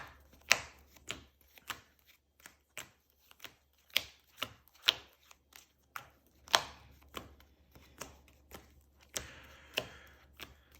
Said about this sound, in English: Always make sure to shuffle your deck before playing.